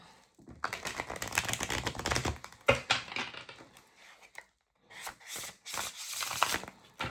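Riffling card shuffles, a crisp flurry of rapid flicks, a pause, then another burst close by with no voices.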